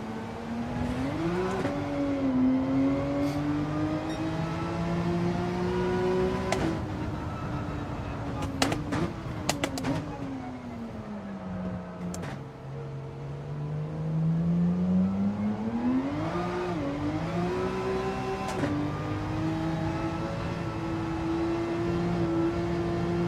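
A Porsche race car engine in Gran Turismo 7, droning steadily at close range as the pitch climbs and falls through gear changes and braking, with a long dip and a rise again, and no talking.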